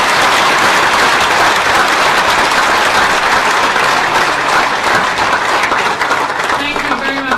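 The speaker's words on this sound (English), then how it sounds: "Another round of applause for Dan." An audience at a presentation on emergency management and community resilience gives a round of applause: steady, dense clapping that stays loud throughout, with a slight easing near the end.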